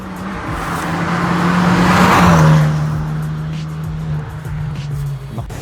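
A Hyundai i20 N hot hatch is driven hard through corners, its engine note swelling loudly as it passes close by with a brief tire squeal, then fading into the distance.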